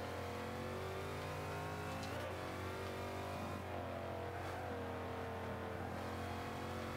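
Saleen S7 supercar engine in Forza 5 racing game revs hard and climbs through acceleration, a loud steady mechanical drone with rising harmonics and brief shift dips, continuous throughout.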